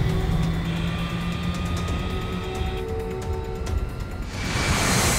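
Big jet engines on a stricken Air Force One roar as thrust builds in a film scene. A loud, rushing drone carries the whole clip, grows rougher midway and then swells into a broad blast at the end, with no dialogue.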